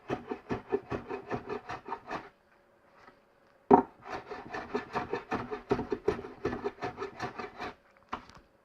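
A hand plane shaves across wood end grain on a classic dovetailed toolbox, two long runs of quick rhythmic rasping strokes separated by a pause and a sharp knock, close and clear with no talking.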